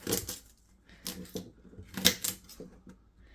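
A knife chops celery on a cutting board in a home kitchen while coconut daal simmers, giving a series of close, crisp thuds and crunches in an irregular rhythm with brief pauses between cuts.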